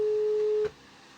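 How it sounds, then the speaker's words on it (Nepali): A steady telephone busy tone sounds loud and clear for about half a second on a failed radio call-in line, then cuts off to quiet background hiss. "पदमजी कुराकानी गर्न खोजिरहनु भएको छ तर फोन लाग्न कठिन भएको छ"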